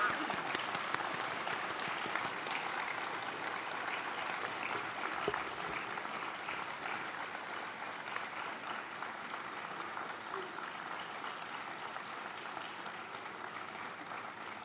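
A standing audience at a Salford university graduation ceremony gives sustained, even applause for the staff and supporters who helped the graduates, a dense wash of clapping that holds steady throughout.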